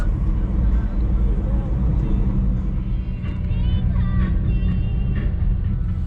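Slow, stop-and-go traffic on the Cibitung toll road, heard from inside a Nissan X-Trail T31 as a steady low road rumble and engine drone. People talk over the noise throughout.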